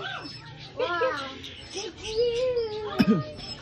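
Several birds chirp and whistle in an aviary, with bright tonal calls and short trills in bursts of song over a steady background, while people talk nearby.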